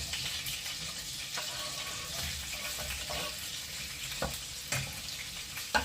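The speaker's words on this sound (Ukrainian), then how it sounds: "І будемо обсмажувати окремо. Спочатку цибулю." Onion frying in melted butter and oil for a meatless soup, a soft steady sizzle close up with a few light taps and scrapes of a spatula near the end.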